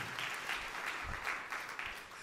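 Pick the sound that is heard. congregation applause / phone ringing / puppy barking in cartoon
congregation applause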